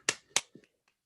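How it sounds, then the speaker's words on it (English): Two sharp claps from people on a video call ring out close together, followed by a couple of softer, fainter pats, all in a quiet room. "Other people are clapping here too."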